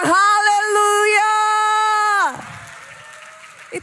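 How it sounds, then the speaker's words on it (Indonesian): A church congregation at a worship service applauds and cheers. A loud sustained vocal or musical tone comes first, then breaks into a rougher wash of clapping and crowd noise. "Tepuk tangan kita bilang haleluya"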